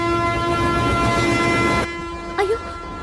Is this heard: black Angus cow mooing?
no